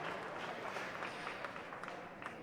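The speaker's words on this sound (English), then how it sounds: "Both teams deserve a huge round of applause." Faint, distant applause from the audience at a school racing final, a soft continuous patter of many hands at low level without any break.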